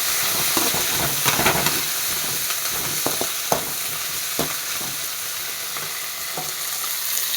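Chopped tomato, coriander leaves and grated coconut being sautéed in a pan for onion chutney, giving a steady dense sizzle with occasional stirring scrapes and clicks throughout, close and fairly loud, with no talking.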